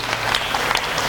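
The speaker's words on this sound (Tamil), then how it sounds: "Let's give the Lord a big hand of praise." A congregation at a shrine applauds in a brief, dense burst of clapping that fills the space evenly from start to end.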